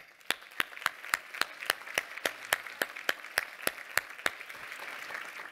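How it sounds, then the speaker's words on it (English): Applause from an audience at an annual Women Helping Women event, with steady individual claps ringing out in a fairly sparse, even rhythm across a hall, moderately distant and without talk over it. "I'd like to just thank all of you again by giving yourselves a round of applause."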